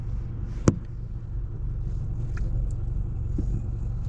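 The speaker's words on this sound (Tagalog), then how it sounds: "Mga mamahaling sasakyan na lumalabas na naman." Cars roll past in a low, steady road rumble with engine drone, a few brief clicks and knocks over the noise, and no voices.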